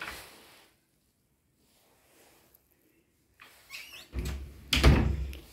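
The doors of a three-door bedroom closet in a Valencia apartment are opened, with a few close knocks and sliding bumps after a quiet stretch.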